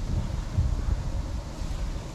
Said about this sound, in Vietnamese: Gió nữa rồi